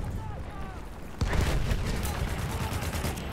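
Machine gun fire in the Battlefield video game, a sudden loud burst of rapid gunfire that keeps rolling on after a quieter opening, with voices talking over it.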